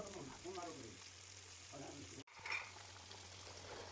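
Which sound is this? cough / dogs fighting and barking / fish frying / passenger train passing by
fish frying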